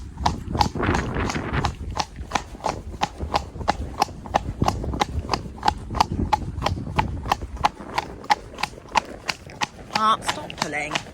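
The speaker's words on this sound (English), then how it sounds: "Quite like to canter on this verge. Cantering uphill would be even better for him." A horse moves along a grass verge uphill with rapid, steady hoofbeats in a rolling rhythm, close and clear throughout, while a person talks over the steps.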